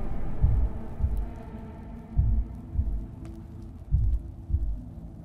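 A heartbeat in the video game Pathologic 2, with deep, muffled thumps in double beats repeating about every second and a half over a low hum.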